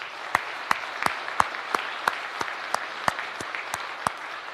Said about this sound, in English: let's give all of them an applause